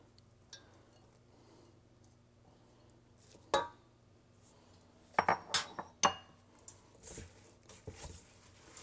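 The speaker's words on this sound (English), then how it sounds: "And add 2 chopped apples. I peeled the apples and chopped them. So they've been peeled and chopped. And I'm going to stir those in by hand." Chopped, peeled apples are stirred by hand into a bowl of batter, a few soft clinks and scraping taps of a spoon against the bowl over a quiet background hum.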